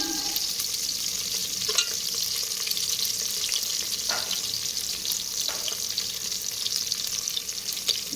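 Whole spices, cinnamon sticks among them, sizzle loudly in oil in a frying pan with a continuous bright hiss. A few soft stirring scrapes come through near the start and the middle.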